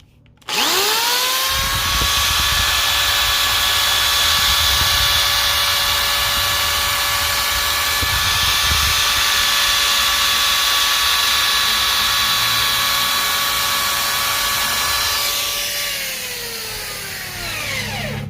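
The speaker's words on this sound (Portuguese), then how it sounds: "eu vou testar aqui para ver se dá com a furadeira." An electric drill spins up to a loud steady whine, holds it while carving into a bonsai pot, then winds down at the end.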